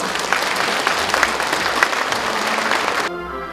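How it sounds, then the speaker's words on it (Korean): Sustained applause from a large audience at an award ceremony, steady and dense for about three seconds before cutting off abruptly into quieter room tone. "한 번 더 뜨거운 축하 박수 부탁드리겠습니다"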